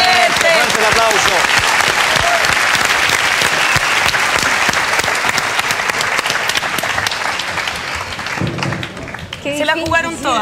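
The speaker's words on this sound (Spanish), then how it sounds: "¡Fuerte el aplauso!" A TV game show studio audience claps loudly and continuously, then it tapers off as voices and cheering come in near the end.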